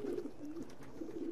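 A pigeon in the Assassin's Creed II video game coos in a soft, low, throaty warble, repeated several times in quick succession, close and clear with no talk over it.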